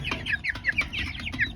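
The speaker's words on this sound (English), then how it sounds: "there's a rooster among them because one of them is already crowing" Silkie chickens in a flock, a young Silkie rooster among them giving a short, rough crowing attempt amid several close clucks and calls over low background noise.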